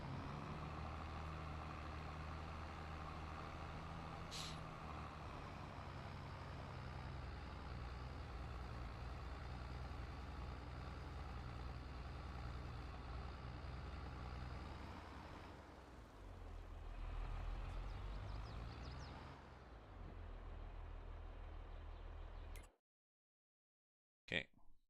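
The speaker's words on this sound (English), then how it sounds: "let's get the truck out of the way" Truck engine in Farming Simulator 22, set in Western Australia, drones steadily at close range for over twenty seconds, with a brief air-brake hiss early on and a shift in engine tone near the end before it cuts to silence.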